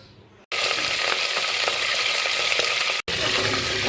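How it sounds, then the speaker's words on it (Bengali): Country chicken pieces hit hot oil in a kadai with a loud, steady sizzle and crackle that starts abruptly, continues without a break and stops for a moment near the end before resuming. "তো দেখো তেল গরম করেছি, এবার এর মধ্যে আমি চিকেনগুলোকে ছেড়ে দেবো।"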